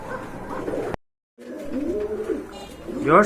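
Local gola pigeons coo in low, throaty rolls at close range, broken by a brief silent gap, with soft rustling in the background.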